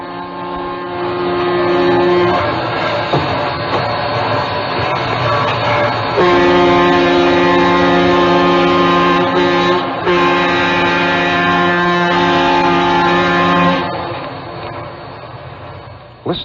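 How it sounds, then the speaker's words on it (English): Sustained chord of a powerful diesel locomotive horn, from an old recording of Union Pacific's City of Los Angeles train, blowing in long steady blasts with brief breaks, loud and close, fading out at the end. "that sound is the sound of a really powerful diesel locomotive"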